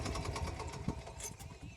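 A mini tractor chugs steadily while sowing a peanut field with a 24-row attachment, its low engine drone faint and continuous with a slightly rough, pulsing texture and no talk over it.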